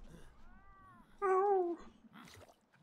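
A Palico cat companion in the Monster Hunter Rise video game meows twice: a soft first call, then a louder, drawn-out meow, close and clear over quiet background.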